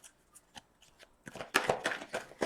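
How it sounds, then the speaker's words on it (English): Tarot cards being shuffled by hand, with quiet scattered card taps at first, then a louder burst of riffling, flicking shuffles in quick succession up close. "I'm not going to shuffle these cards a lot"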